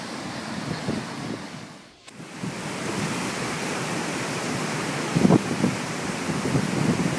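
Stormy sea surf pounds the shore of Belmonte Island in Brazil, a loud, continuous roar with wind buffeting the microphone and a brief lull partway through.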